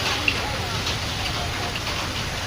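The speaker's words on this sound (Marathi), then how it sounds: "मुंबईचं बघा पाऊस किती जोराने पडते" Heavy rain falling in Mumbai, a dense, steady hiss of downpour that holds evenly throughout at moderate level, with no voices.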